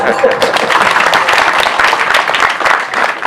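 A crowd at a village gathering in Bumiayu, Brebes, Central Java, breaks into loud, dense applause with many hands clapping at once, close and sustained, while voices mix in underneath.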